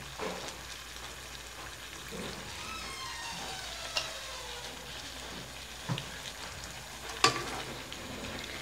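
Chicken liver and gizzard adobo with soy sauce sizzling gently in a pan, a soft steady crackle broken by a few sharp clinks of a utensil against the pan.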